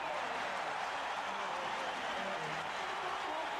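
Crowd noise at a 1983 basketball arena during a Sixers vs. Bucks playoff game: a dense, even roar of cheering and applause, steady and fairly distant throughout.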